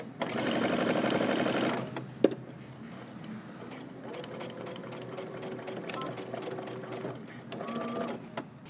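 A sewing machine runs steadily for about two seconds while stitching a jumpsuit seam at a 5/8-inch allowance. A sharp click follows, then quieter fabric handling and a faint whirring.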